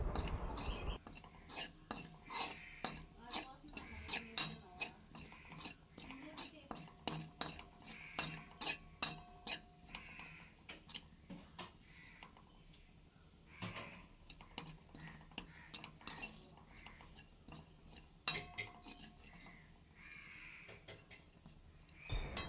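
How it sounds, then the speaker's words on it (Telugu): Grated coconut dry-frying in a kadai for coconut laddu decoration, with a steady run of light scraping and clicking strokes of a spatula against the pan, close and quiet throughout. "కొబ్బరి లడ్డు పైన డెకరేషన్ కోసం నేను కొంచెం కొబ్బరి పొడిని ఇలా ఫ్రై చేస్తున్నానండి"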